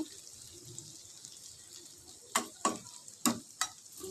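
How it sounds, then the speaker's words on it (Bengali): Okra sizzles gently in a pan over a low flame with a soft, steady crackle, then several sharper stirring clatters near the end. "এটাকে এরকম লো ফ্লেমেই ভাজতে হবে"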